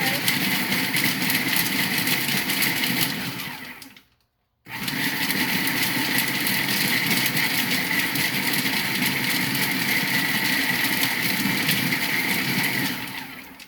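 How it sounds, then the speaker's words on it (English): A small food processor whirs steadily while blending an energy ball mixture, stops briefly, then spins again at the same loud, even pitch. "Yeah, these little food processors, they come in handy. It still needs another little spin."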